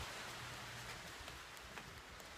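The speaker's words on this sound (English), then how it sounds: "Well, it's raining here in the tropics." Steady tropical rain in the Dominican Republic hisses continuously, a dense even patter with occasional slightly louder drops, no voices.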